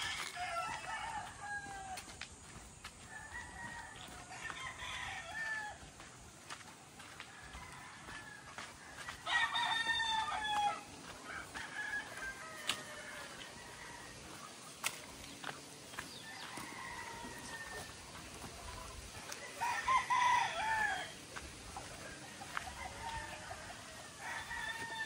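Claret gamecocks and brood fowl crow repeatedly outdoors, with loud crows near 10 and 20 seconds, scattered clucks and more distant crowing in between and no talk.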